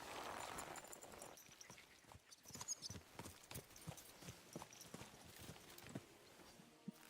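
Horse hooves clip-clop steadily at a walking pace in the medieval video game Kingdom Come Deliverance 2, quiet and continuous with soft ambient background and no voices.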